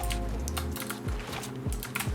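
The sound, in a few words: typing on a computer keyboard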